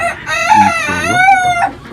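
A farmyard rooster crows once near and loud, a drawn-out rising and falling call lasting about two seconds with no talk over it.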